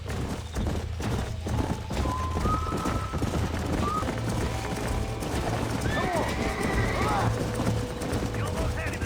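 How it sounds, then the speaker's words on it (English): Horses in the Red Dead Redemption video game: steady clip-clopping hooves with repeated neighs and whinnies over a busy game soundscape, scattered gunshots, and voices talking throughout. "There's the horses!"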